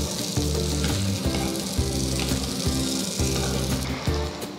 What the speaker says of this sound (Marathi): उलटवून दुसऱ्या बाजूने पण छान भाजून घ्या